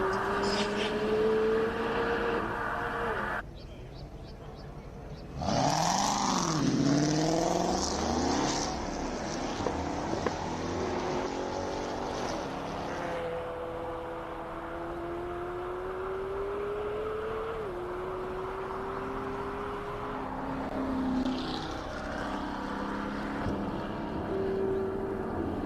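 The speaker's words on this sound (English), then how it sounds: "The beautiful McLaren, Garth McIntosh, the 720S" A McLaren 720S sports car races up the Simola Hillclimb course, its engine note rising and falling through repeated gear changes as it passes, with a commentator's voice at times over the sound.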